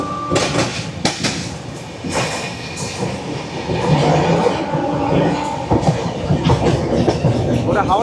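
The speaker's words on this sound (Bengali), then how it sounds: "ওটা হাওড়া পুরী সুপারফাস্ট।" Howrah–Puri Superfast express passing close by, a dense broadband rumble and rattle of carriages with sharp clicks and brief squeals, steady and loud for the whole stretch with no talk.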